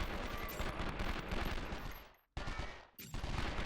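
Dense, continuous gunfire roars through a firefight in 24: The Game, loud and relentless, briefly cutting out before resuming.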